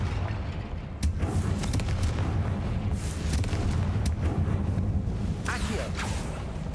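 A Confringo fire spell blast in Hogwarts Legacy, booming and crackling over a low rumbling background, with sharp bursts and creaking debris around it and some voice-like sound mixed in.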